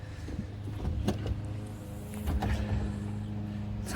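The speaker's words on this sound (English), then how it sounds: "We'll pull the engine cover." A powered engine cover lifting open on a speedboat with Sea-Doo 800 engines, giving a steady electric motor hum with faint clicks and knocks throughout, ending in a sharp clunk as it finishes.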